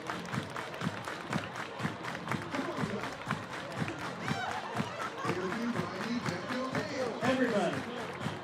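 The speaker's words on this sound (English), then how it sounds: "Everybody clap your hands." A ballpark crowd at a Pickles All-Stars versus Portland Gherkins baseball game claps along in a steady, lively rhythm, fairly distant, while a voice talks over it.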